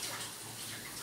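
Tap water runs steadily over Chinese cabbage being rinsed under a faucet, a soft, continuous splashing hiss heard faintly and alone.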